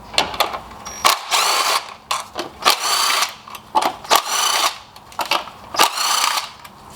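A power tool or driver works the 10 mm coil pack screws on a 2012-2017 Honda Accord K24 engine, in repeated loud whirring bursts of about a second each with short pauses between.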